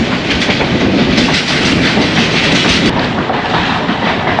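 A diesel-hauled train on a branch line in Pakistan rolling along the rails at about 50 km/h, a loud continuous rumble with rhythmic clickety-clack from the wheels, heard from on board.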